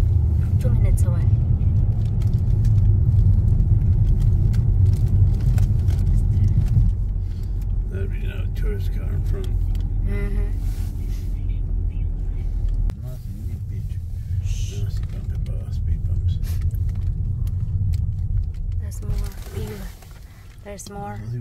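Steady low car rumble while driving from Hobart to Port Arthur in Tasmania, a constant road drone throughout with people chatting over it.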